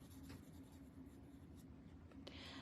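Graphite pencil shading along one edge of a tangle-pattern drawing, a steady soft scratchy rubbing that runs the whole time, close and quiet, with no one speaking.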